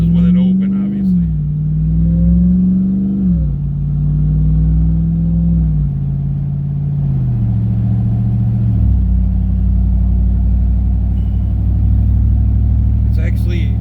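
A RAM TRX pickup truck with its QTP exhaust cutout open drives on the road, a loud, close, steady engine drone that rises and drops in pitch with each gear change.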